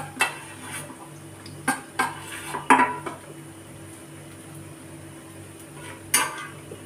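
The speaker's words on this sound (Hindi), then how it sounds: "मैंने इतने बनाए थे कि एक ही बार में सारे आ गए हैं, देखो कढ़ाई में, और मैं इन्हें तल रही हूं।" Kofte frying in a kadhai with a faint sizzle underneath, punctuated by several sharp metallic clinks and scrapes of a utensil against the pan, close and intermittent.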